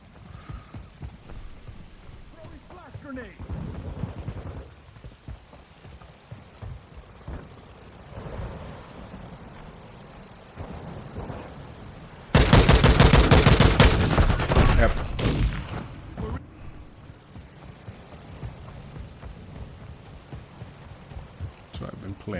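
Call of Duty Modern Warfare II gunfire, scattered shots under a player's talk, then a loud burst of noise from a flash grenade lasting a few seconds.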